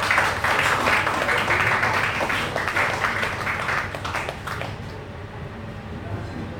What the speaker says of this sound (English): Ladies and gentlemen, one big round of applause, please.